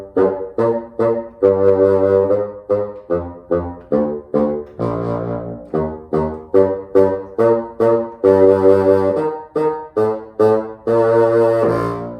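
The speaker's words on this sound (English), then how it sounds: "But when I take my double reed and I put it on my bassoon" A bassoon sounded through its double reed plays a sequence of low, separate notes, some short and some held, filling the passage alone with no talking.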